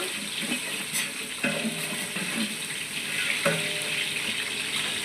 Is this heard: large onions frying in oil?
yes